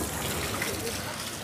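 Water gushing from a hose aboard a ship during a water pressure test, a continuous loud rushing spray with a slightly uneven surge, steady throughout.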